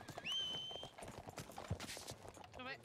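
Horse hooves clip-clop in a ranch-themed roleplay video game, quick and moderately loud, mixed with brief tonal game sounds and a short whinny-like flutter near the end.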